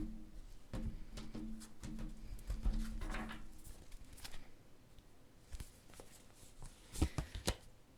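Tarot cards shuffled by hand, a soft papery riffle and patter of light taps continuing for several seconds, fairly quiet and close, with a few brief sharper flicks near the end.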